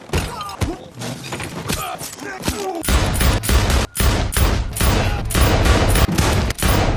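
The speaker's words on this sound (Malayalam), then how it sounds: "അങ്ങനെ അവന്മാരെല്ലാം വെടിവെച്ച് വീഴ്ത്തിയതിനു ശേഷം" Gunfire in a movie fight scene comes as rapid loud bursts of shots and impacts that crack and thud one after another, with a few grunts and thumps between them.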